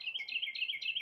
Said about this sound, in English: Hopefully the birds aren't too loud. So, no, they're very loud.